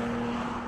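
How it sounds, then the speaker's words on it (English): A Porsche 911 Carrera's 370-horsepower twin-turbo flat-six drones steadily and close up, with a sustained high turbo whistle held over the engine note for a brief moment. "The turbo whistle is fun"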